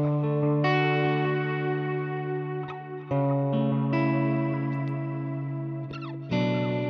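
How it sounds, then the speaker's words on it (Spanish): Electric guitar through a Hotone Ampero II Stomp with delay and reverb engaged, sustained ringing notes and chords with lingering repeats and tails, steady and fairly loud, no voices. "quiero activar el delay y la reverb."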